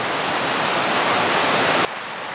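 The King River runs through a mountain valley on the Pacific Crest Trail as a loud, steady broadband rush of flowing water, close and continuous. It drops abruptly to a softer, duller roar near the end.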